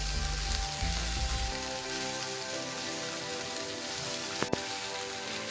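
Cauliflower pieces with onion and a little ghee hiss loudly in a hot pan as they are flipped, a dense crackling sizzle opening with a few heavy stirring thuds, then settling into an even fry with one sharp clack near the end.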